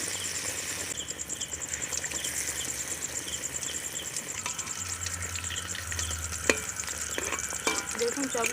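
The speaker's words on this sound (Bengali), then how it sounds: "দেখুন চপগুলো আমি খুব ভালো করে ভেজে নিয়েছি" Battered potato chops (aloor chop) deep-fry in hot oil with a close, steady, bubbling sizzle and fine crackling throughout, plus a few brief clinks near the end.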